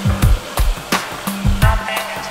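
Motorized grinding machine truing the edges of a handmade knife blade, with repeated bursts of sharp contact against a steady whirring hum, close and fairly loud.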